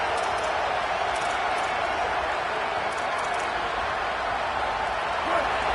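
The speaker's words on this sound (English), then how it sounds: "This crowd, full throat, splitting the eardrums and letting them know it's going to be a long day" A football stadium crowd in a Madden/NCAA video game roars at full throat, a dense, steady wall of cheering noise that holds loud throughout.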